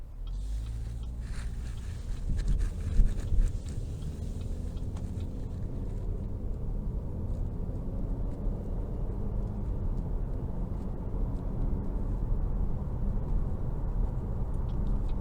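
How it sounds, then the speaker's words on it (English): A 2022 Chevrolet Malibu Premier with the 2.0T engine and 9-speed transmission cruises on the road, heard from inside as a steady low rumble of engine and road noise with a gear change as revs rise and settle. "we're going to go ahead and take this Malibu Premier out on the road for a quick test drive"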